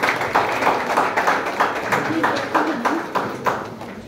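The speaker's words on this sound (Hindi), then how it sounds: "तालियां हो जाए डॉक्टर साहब के लिए" Audience applause for a doctor at a Women's Day honouring ceremony, a loose rhythmic clapping with a regular beat that continues steadily and fairly near throughout.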